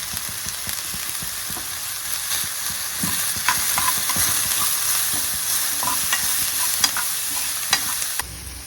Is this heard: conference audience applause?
no